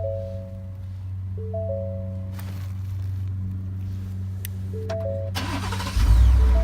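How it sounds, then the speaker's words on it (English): A 2017-2019 Ford F250 truck is remote started while a steady low hum runs underneath; a few short electronic tones sound, then the engine cranks and catches near the end, loud and close. "And your car remote starts."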